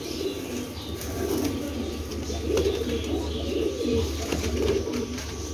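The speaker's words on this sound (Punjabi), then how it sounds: "ਇਹ ਕਬੂਤਰ ਦੇਖੋ ਮਾਸ਼ਾਅੱਲਾ, ਬੜੇ ਅੱਛੇ ਕਬੂਤਰ ਨੇ" Pigeons cooing softly in a loft, a steady low murmur of calls with occasional wing flutters, close by and continuous, no talking.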